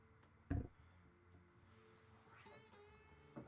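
A needy pet cat lets out a brief, fairly loud meow, with a quieter meow later, over a faint background hum indoors.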